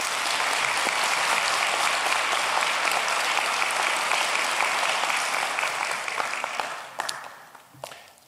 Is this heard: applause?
yes